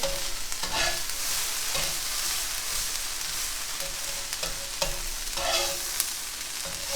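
A bread roll crisps in a hot pan, giving a dense continuous sizzle with occasional brief scraping and shifting sounds, close and loud, no voices.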